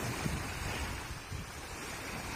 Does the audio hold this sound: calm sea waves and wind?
yes